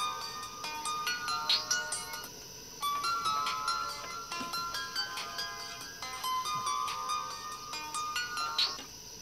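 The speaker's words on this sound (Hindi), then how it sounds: "फोन तो उठा लीजिए।" A melodic electronic ringtone repeats steadily, its tinkling tones cycling in phrases with a short pause midway, fairly clear and close.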